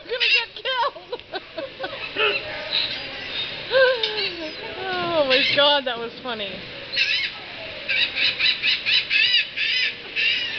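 Several seagulls squawk and cry close by at an outdoor table as they swoop in for food and a beer, repeated harsh calls in bursts, with a person talking and laughing amid them.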